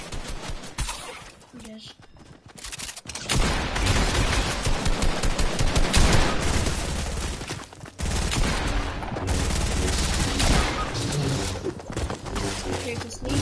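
Rapid bursts of video game gunfire crackle through a match, dense and loud over several seconds, with players talking over the shooting.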